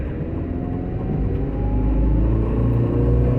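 A Maruti Suzuki Eeco car with a weird noise, heard as a loud steady engine rumble with a faint whine above it, running continuously and close by with no talk.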